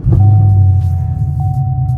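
A Chevrolet Camaro engine idles with a steady low rumble and a faint whine, close by and continuous, with no talking.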